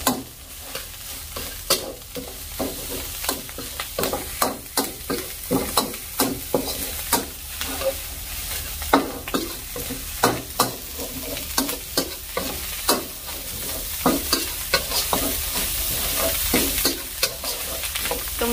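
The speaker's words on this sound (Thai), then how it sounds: "สังเกตว่าเขาจะผัดแห้งมากนะ" Thai fried rice with naem being stir-fried dry in a pan: a spatula scrapes and clanks repeatedly in quick irregular strokes over a steady sizzle, loud and close, with no talking.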